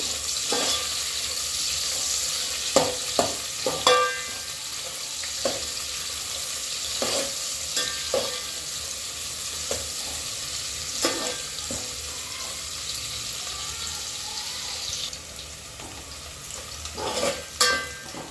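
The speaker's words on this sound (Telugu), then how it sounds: "చూడండి ఇట్లా మంచిగా ఫ్రై అవ్వాలండి ఉల్లిపాయలు" Onions fry in oil for chicken pulao, giving a steady close sizzle broken by sharp scraping stir strokes at irregular intervals, with no talking.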